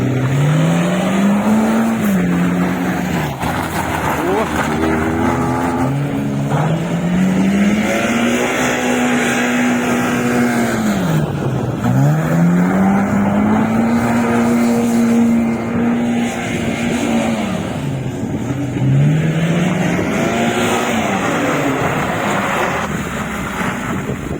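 Engine of an old Soviet car, a Kopeyka, revving continuously inside a garage, its pitch rising and falling in repeated sweeps, loud and close throughout with no talk over it.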